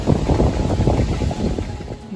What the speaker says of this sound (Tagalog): Pasensya na, medyo mahangin po, no?